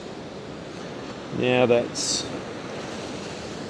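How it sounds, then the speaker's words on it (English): Ocean waves wash over coastal rocks and into a small gully, a continuous broad surf rush under wind, with a brief spoken phrase from a man partway through. "over on these rocks just here, the water's flowing over"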